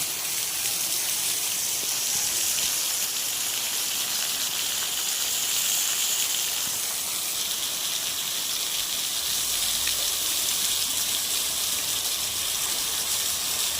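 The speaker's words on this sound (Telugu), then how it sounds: "చీకటైంది, మొత్తం విపరీతంగా కొడుతుంది వాన." Heavy rain from Cyclone Montha pours down on a village after dark, a dense, steady roar of rain on surfaces and running water that stays loud throughout.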